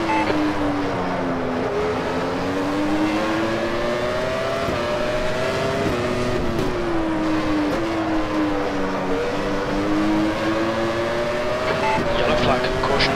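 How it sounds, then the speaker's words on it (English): Open-wheel race cars from the 1996 Formula One season roar around the Barcelona circuit in a sim racing game, a loud continuous engine drone rising and falling in pitch through gear changes, with a voice talking over it. "So hopefully you enjoy the sounds of the cars today, guys."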